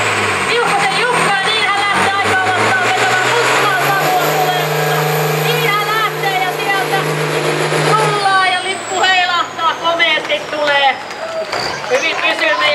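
A Fordson tractor engine roars at a 2017 tractor pulling contest in Vuolenkoski, Finland, loud and sustained, with a commentator talking over it and crowd noise throughout.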